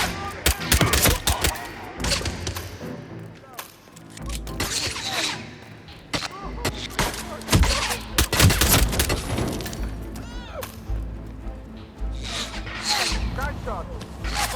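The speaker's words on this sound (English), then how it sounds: "Gunshot! Tower side!" Gunfire rings out in Hitman 3 during the Mendoza level, with rapid bursts of shots and sharp impacts over game music and ambience, loud and close throughout.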